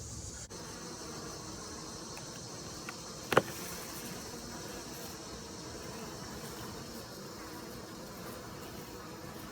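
Honeybees droning around an emptied feeder jar in the morning, a faint, steady outdoor hum with one brief sharp knock partway through.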